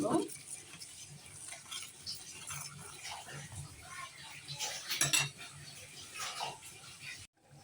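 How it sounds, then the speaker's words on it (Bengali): A utensil clinks and scrapes against a pot as egg is stirred into noodle soup, uneven metallic taps and swirls close by, ending in a short silence. "এখন দিয়ে দিব ডিম ভালো করে নেড়ে দিব"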